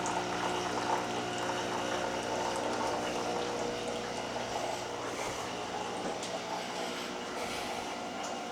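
Descaling liquid pours steadily from a De'Longhi Dinamica Plus automatic coffee machine, a continuous gushing, gurgling flow with a faint hum, close and loud throughout.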